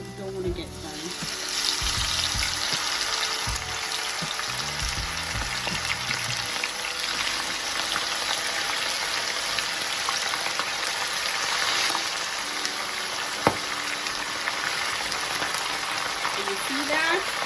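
Fish for escovitch fries in hot oil, a loud, continuous close sizzle and crackle that holds steady throughout, with faint spatters and a few small knocks.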